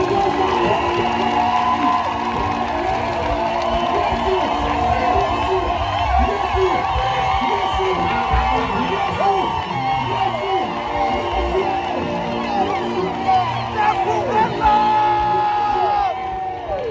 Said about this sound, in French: Que tout le monde acclame la victoire.